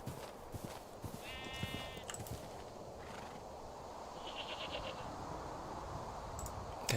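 Sheep in the Minecraft TerraFirmaCraft game bleat twice in short, reedy bursts over a steady background hum. No one speaks.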